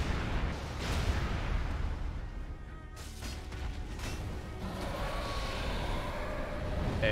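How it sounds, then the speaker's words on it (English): A boss's fire breath attack in Dark Souls 3 roars as a continuous, dense rushing blast with heavy low rumble, loud and sustained throughout with slight surges and no voices. "Oh shit, it's a fire breath."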